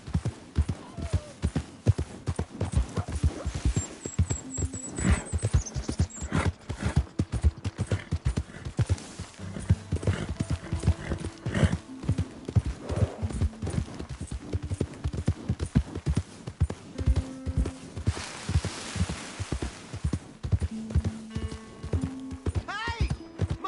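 Rapid, steady clip-clop of horse hooves runs throughout, with occasional game sound effects and a brief whinny mixed in.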